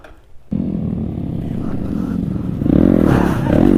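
Motorcycles revving outdoors while riders pop small wheelies, a loud close engine drone that rises in pitch and grows louder near the end.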